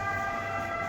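An ambulance siren holds a steady, fairly loud tone for a brief moment, with no talk over it.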